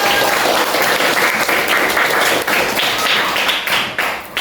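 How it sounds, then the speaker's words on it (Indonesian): Schoolchildren in a classroom clap together, a loud, continuous burst of many hands close by that keeps up steadily for several seconds with slight unevenness toward the end. "Oke, tepuk tangan silakan."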